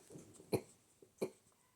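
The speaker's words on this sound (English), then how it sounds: "Suddenly decided to cough there." A person coughs twice, faint and short, with the two dry bursts spaced under a second apart against a quiet indoor background.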